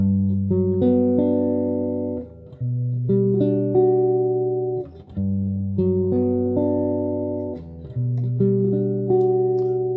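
Sustained notes of an inverted chord ring out together, repeated several times with short breaks between, clear and alone with no voices.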